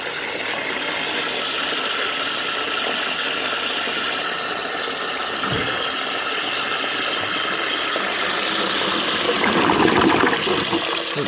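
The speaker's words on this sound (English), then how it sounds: "Oh well, it works this siphon. It works very well too" A restored 1 1/4 Cardigan toilet siphon flushes, and water rushes and gurgles steadily nearby throughout. The flow swells slightly toward the end, with no talk over it.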